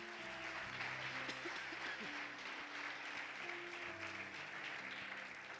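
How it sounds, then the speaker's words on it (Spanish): A church congregation applauds loudly and steadily for the Lord, a dense wash of clapping over continuous musical tones, with voices faintly mixed into the crowd noise. "Dele otro aplauso fuerte al Señor."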